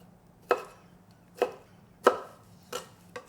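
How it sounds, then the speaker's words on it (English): A knife chops pineapple on a board: five distinct, evenly spaced thuds, close and crisp, with quiet in between. "Pineapple, also let's cut it like this."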